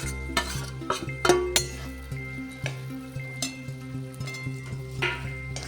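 Chopped potatoes being stirred in a pan with a spatula, giving a string of sharp metallic clinks and scrapes at irregular intervals, close and moderately loud, with no talking.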